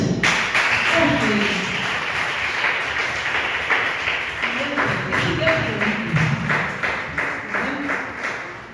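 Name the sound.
congregation applauding in church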